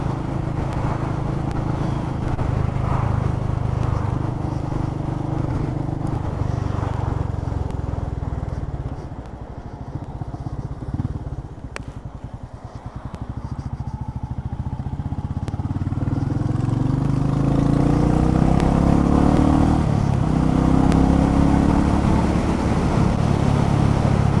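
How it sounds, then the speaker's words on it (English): A Royal Enfield Meteor 350 motorcycle engine runs loud and near, rumbling steadily, easing off midway and then revving back up as it pulls away. "I'd forgotten how nice this engine actually sounds."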